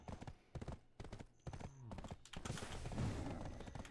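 Horse hooves in the video game Black Desert Online clip-clop in quick, irregular bursts with thuds and a brief whinny-like tone, fairly faint and steady throughout, like a horse galloping.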